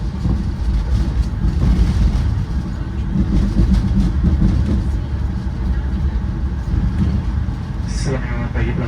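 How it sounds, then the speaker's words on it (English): The Argo Dwi Bangga passenger train pulls into Cirebon station with a loud, steady rumble of wheels and engine close by, while a station announcement plays over the noise. "kereta api Argo Dwi Bangga telah tiba di stasiun Cirebon"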